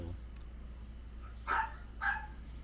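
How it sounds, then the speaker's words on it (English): A dog barks twice from a short distance, two sharp separate barks about half a second apart over a low steady background hum, with a faint chirp before them and no talking. "our dog's having a fit"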